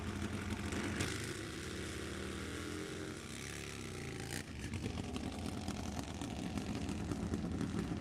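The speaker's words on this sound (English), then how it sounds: "Couple of Harleys." Harley-Davidson motorcycles roar at a Pro Extreme drag race final round, a steady loud engine drone that rises and shifts in pitch, heard from a distance with continuous crowd-and-track ambience.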